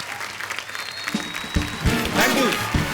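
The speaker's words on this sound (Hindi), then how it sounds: "जोरदार तालियां सिम्बा के लिए।" A television studio audience bursts into loud applause for Simba on a comedy talk show, the clapping swelling steadily and close-miked over roughly three seconds.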